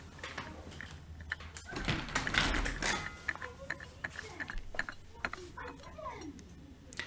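A new oil filter is threaded on by hand during an oil change on a Vespa GTS 300 scooter, giving a string of close, small metallic clicks, scrapes and ratchety ticks that come in irregular bursts.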